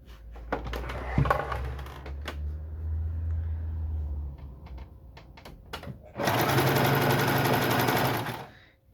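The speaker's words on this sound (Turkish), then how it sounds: "Şimdi normal dikiş yapıyoruz." A sewing machine stitching lining fabric for a mussel-shaped bag, starting with handling clicks and a low hum, then a loud, close, steady run of rapid stitching for a couple of seconds before stopping.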